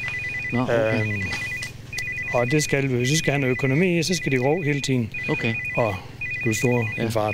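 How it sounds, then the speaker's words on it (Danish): A mobile phone rings with a repeating electronic ringtone in regular bursts, running steadily beneath continuous Danish conversation between two men during a visit. "Og det er min telefon, der ringer."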